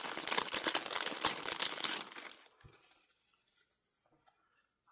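Gold foil papercraft pieces crinkle and rustle up close as they are handled and unwrapped, a dense, busy crackle for about two seconds, then fading to a few faint taps and near silence.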